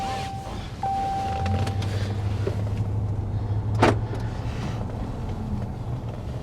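A car rolls along a road with a steady low engine and tire rumble from inside the cabin, a faint whine early on and one brief louder swell near the middle.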